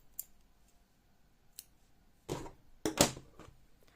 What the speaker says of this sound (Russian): Все, теперь я обрезаю хвостик.